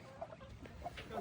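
Several chickens clucking softly in short, scattered bursts, faint and close, with no talk over them.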